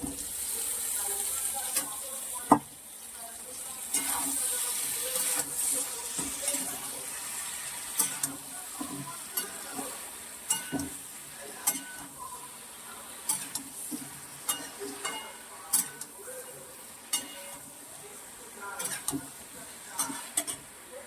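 Potatoes fry in hot oil with cumin and bay leaf, giving a soft steady sizzle broken by frequent clinks and scrapes of a utensil stirring the pan.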